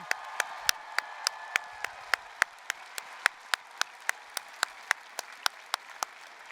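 Sparse, rhythmic clapping from a commencement ceremony crowd, sharp individual claps at a steady pace, fairly close, with no voices or cheering.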